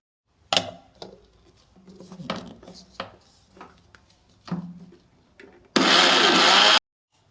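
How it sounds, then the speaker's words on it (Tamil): A mixer grinder jar powders bread slices in one loud, steady burst of about a second, after a run of softer clatter and knocks from kitchen handling. "எடுத்துகிட்டு நம்ம ஒரு மிக்சி ஜாரில் போட்டு பவுட்ரு தூள் பண்ணி எடுத்துக்கலாம்"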